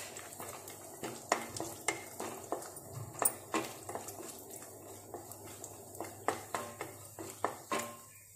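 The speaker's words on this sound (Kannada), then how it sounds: "ತುಪ್ಪ ಬಿಸಿಯಾಗಿದೆ ನಾನು ಗೋಡಂಬಿ ಹಾಕ್ತೇನೆ" Cashews go into hot ghee in a pan for banana halva, giving a soft sizzle broken by repeated sharp scrapes and clinks of a spoon against metal at an irregular rhythm, close and fairly loud.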